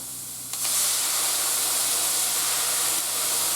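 A hot pan is deglazed with a sudden burst of liquid, then a loud, steady hiss of sizzling and steam that holds close for several seconds without speech.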